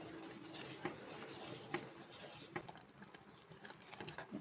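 A Ramzan special falooda mixture with almonds and cashews is stirred as it thickens in a pot, making faint, steady scraping and clinking of a spoon against metal with occasional taps, close but quiet.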